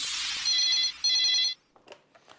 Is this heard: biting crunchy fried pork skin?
no